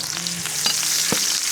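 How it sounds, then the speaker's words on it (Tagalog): Garlic and onion sautéing in hot oil in a wok, a steady close sizzle with a few stirring scrapes and clinks, no talking. "Igigisa na po natin yung ating bawang, luya, sibuyas."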